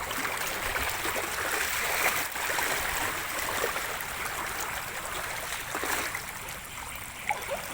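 Strong floodwater stream rushing and swirling, a loud continuous broadband roar of flowing water heard alone from start to finish.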